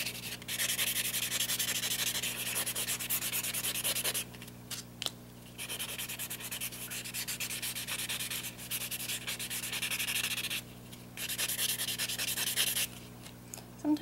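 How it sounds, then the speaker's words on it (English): Fingernails being filed with a nail cube, steady scratchy rubbing strokes in long close runs, broken by a few brief pauses, fairly quiet with no voices. "something you might be more familiar with is a nail cube. And you start with side one, and this evens out the nail"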